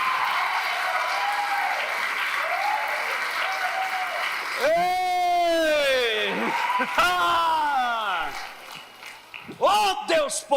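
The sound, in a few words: congregation applauding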